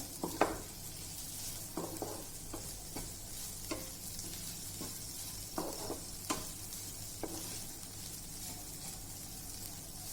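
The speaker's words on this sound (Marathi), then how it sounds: "नंतर यात टाकूया सोयाबीन बारीक केलेलं याला पण छान परतून घेऊया" Minced soybean for momos sautés in a pan, giving a steady low sizzle under scattered scraping stirs and light clinks of a spoon against the pan.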